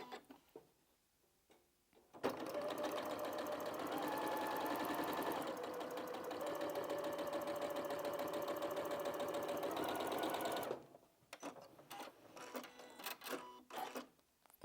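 A sewing machine runs a quilting stitch line on a quilt-as-you-go patchwork Christmas cushion, a rapid, even mechanical whir lasting about eight seconds, framed by quiet handling clicks and rustles before and after.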